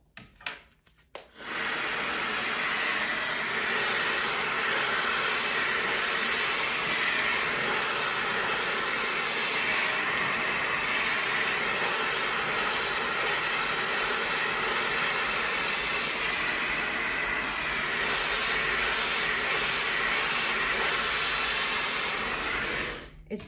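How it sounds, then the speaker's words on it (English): A warmmama ionic high-speed brushless hair dryer, 1500 W with a 160000 RPM motor, switches on after a brief rustle and blows with a loud, steady whooshing whine close by, running evenly before cutting off at the end. "Perfect hair dryer."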